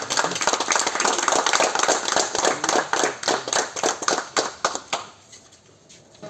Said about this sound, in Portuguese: E as palmas a você, Jesus.